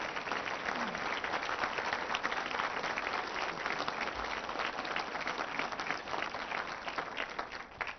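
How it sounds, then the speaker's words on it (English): A lunch audience at a Kansas City, Kansas government address gives interns a steady, dense round of applause lasting throughout, with a faint murmur of voices beneath. "let's recognize them with a round of applause as well"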